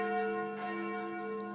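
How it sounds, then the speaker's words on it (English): Church bells ring steadily in the horror dating game Sucker For Love: First Date, a sustained bright tolling chime that fades slightly, heard alone. "Those sound like church's noontime bells."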